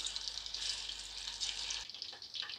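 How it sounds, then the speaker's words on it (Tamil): Chicken pakoda pieces frying in hot oil over medium flame, a soft bubbling hiss that runs steadily and then thins out toward the end, with a low hum dropping away partway through. "இப்போ நம்ம எண்ணெயில் பொறிச்சு எடுத்துடலாம்."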